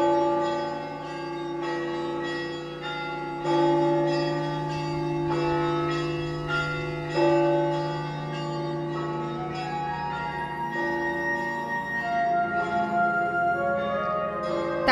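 Large monastery bells in a tall concrete bell tower, among them an 18-ton and a 9-ton bell, ring in a steady repeated pattern with long overlapping resonant hum, loud and close, with no voices.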